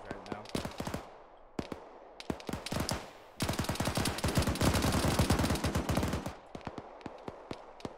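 Gunfire in the military shooter Arma 3: loud, rapid automatic bursts of sharp cracks, a few spaced shots, then a sustained heavy rattle that breaks off into scattered single reports.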